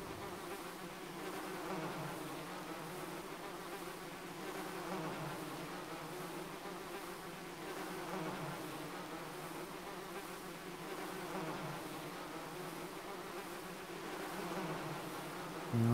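Steady insect buzzing of mosquitoes drones throughout a dark level of the 2009 video game Demon's Souls, a continuous whine with slow swells in loudness and no talk.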